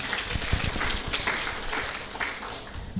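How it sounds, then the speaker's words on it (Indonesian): Applause for farmers at a sugar company event in Magetan, a steady wash of clapping from the audience held at moderate level for a few seconds. "Tepuk tangan dulu untuk petani kita."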